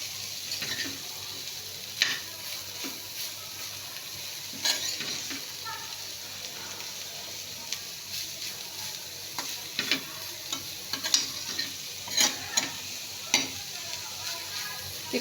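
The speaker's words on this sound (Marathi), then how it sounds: "आता आपण याच्यामध्ये बारीक चिरलेली कोबी घालून घेऊ. सगळं मिक्स करून घेऊ आपण." Finely chopped cabbage being stirred in a pan, giving a steady soft scraping with faint sizzling and occasional light clicks of the spoon against the pan, no voices.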